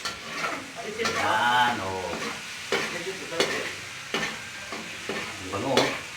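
Stir-frying in a pan for a provincial Bisaya home dish: sizzling crackle under a spatula scraping and stirring in uneven strokes, with a person speaking briefly over it.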